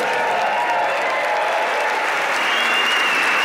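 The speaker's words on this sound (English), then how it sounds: "That applause feels so good." A stand-up comedy audience applauds a comedian walking on stage, a dense, even wash of clapping from a large room that stays loud and steady throughout.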